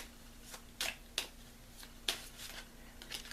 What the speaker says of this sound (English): I just shuffle until I feel led to pull a card.